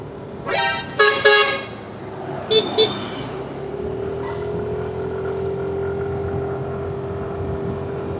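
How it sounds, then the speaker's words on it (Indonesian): A car horn honks in a few short bursts, followed by a long steady tone, amid road noise from passing traffic on a forested mountain road between Bengkulu and Palembang, Indonesia. "Itu klakson di mana sih?"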